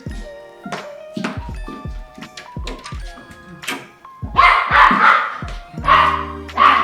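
A dog barks repeatedly in sharp, loud, close bursts, with a few yips and thumps, in a kitchen during salad preparation.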